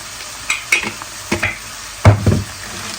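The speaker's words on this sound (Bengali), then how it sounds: "পেঁয়াজ রসুন এগুলো একটু কষাই নিয়েছি এখন দিয়ে দেবো হচ্ছে জিরে গুঁড়া" Cumin powder stirred into frying onion, ginger and garlic paste in a pan: close, sharp scraping and clinking stirring strokes in a few uneven bursts over a soft, steady sizzle.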